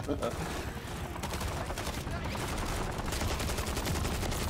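Automatic weapon fire rattles in the Modern Warfare 3 video game as bursts of rapid shots, dense and continuous over a low, rumbling bed. Volume is moderate, and a player's voice may sound faintly underneath.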